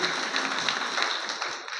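Applause from an audience at a union meeting, a steady dense wash of clapping held at even loudness throughout.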